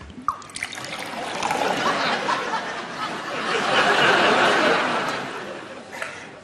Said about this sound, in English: Can you hear Noddy filling the sink with water?